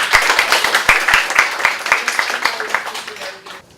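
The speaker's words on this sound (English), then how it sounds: "please give a warm round of applause to our speakers" Brief clapping from an audience at a dialogue series event on Philippine refugee policy, a sparse, rhythmic patter of hands heard close for a few seconds that tapers off as a voice speaks over it.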